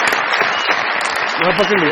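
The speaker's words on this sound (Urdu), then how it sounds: "بہت ساری تالیاں بجائیے میرے بھائی کے لیے" A studio audience at a Pakistani television comedy show claps loudly and steadily throughout, with a voice speaking over the applause.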